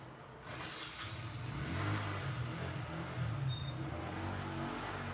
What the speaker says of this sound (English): Oh, and don't mind the sound of scooters.